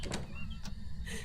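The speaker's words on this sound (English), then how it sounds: "He keeps closing the door on me." A door closing in the ghost-hunting video game Phasmophobia, a quiet sliding thud and short scrape heard alone in a brief burst.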